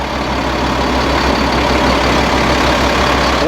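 Heavy diesel engine of a 2001 Sterling LT7500 6x4 hydro-excavator truck idling with throttle on, a loud, steady low rumble and drone close by, no speech.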